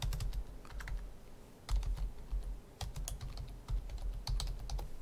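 Rapid, uneven clicking of keys on a computer keyboard, close up and steady over a soft background hum, with no talking.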